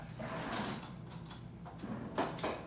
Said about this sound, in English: Had to reach into my drawer here.